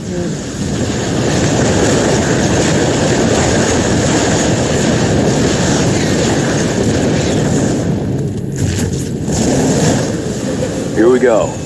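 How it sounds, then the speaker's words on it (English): A train in StarCraft 2 rumbles along continuously and loudly, a steady rolling roar with mechanical clatter, briefly interrupted by a few sharp clanks near the end. "Knock that train over and raise some hell."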